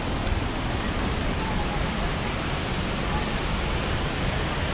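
Huangguoshu Waterfall in Anshun, Guizhou, sends up spray in a loud, steady, unbroken roar of rushing water heard close by.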